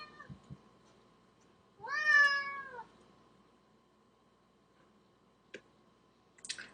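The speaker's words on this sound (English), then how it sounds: "That was my cat." A cat gives one clear, drawn-out meow close by, amid a quiet room with a steady faint hum and a few small clicks.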